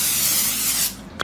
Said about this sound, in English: So I'm going to give that a quick spray,